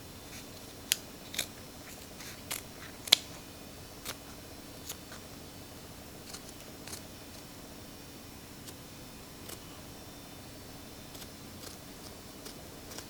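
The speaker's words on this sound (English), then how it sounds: "go ahead and cut the excess wig cap out" Scissors snip away the excess cap of a 360 lace frontal custom wig, producing about a dozen faint, close, crisp cuts spaced irregularly over a quiet background.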